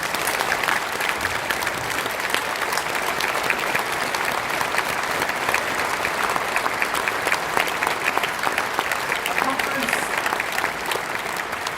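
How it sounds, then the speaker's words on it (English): A large audience at the 2019 PCS union conference gives loud, sustained applause, a thick unbroken roar of clapping that runs the whole time. "I would like Conference to join me in a rousing round of applause to tell Janice"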